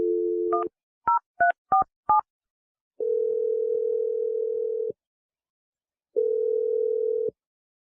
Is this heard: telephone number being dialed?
yes